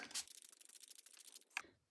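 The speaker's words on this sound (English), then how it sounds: "I've got my spray bottle here just with normal tap water, and I'm spraying my paper." Quick hissy spritzes from a spray bottle of tap water onto paper, a short burst then a longer stuttering run of sprays, followed by one final pump, close and fairly quiet.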